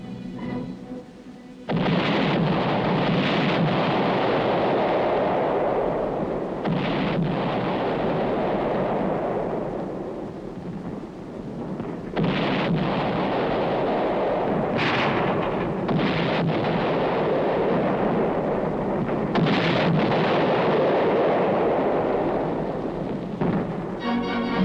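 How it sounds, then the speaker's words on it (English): A heavy bombardment of artillery and high explosive shells pounds a hilltop in wartime Korea, with loud, sustained booming rumbles rolling one into another across the whole stretch. "the infantrymen prepare to blast the Reds from still another hilltop with coordinated fire"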